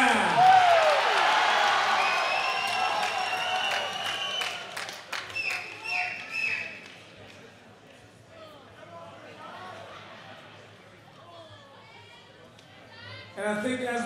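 A crowd at a fight night event applauds and cheers for two fighters, loud and dense at first, then thinning to scattered claps and murmurs, with a brief swell near the end.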